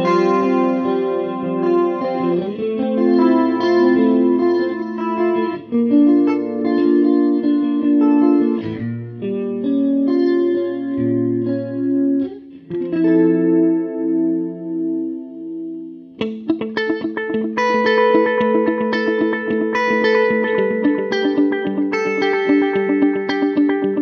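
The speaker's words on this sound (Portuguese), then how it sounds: "o DC-30, que foi uma máquina de coros e eco lançada pela Holland em" Guitar played through a Boss Katana V3 amp using its DC-30 chorus and echo effect, modeled on a 1978 Roland unit; sustained shimmering chords and notes with wide chorus swirl and trailing repeats, loud and solo with no talk.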